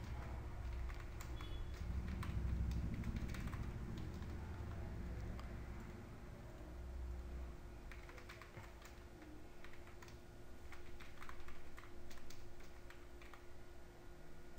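Fingers type on a computer keyboard while an online job application form is filled in, producing faint, irregular clicks in quick bursts over a steady low background hum.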